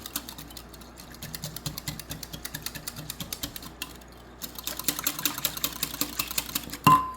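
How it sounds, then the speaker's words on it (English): Milk and sour cream whisked together in a bowl, a quick, regular clicking and tapping rhythm of whisk strokes that speeds up and gets busier midway, ending with a brighter knock, with no talking. "Our milk and sour cream, we add that together. We're gonna whisk it together."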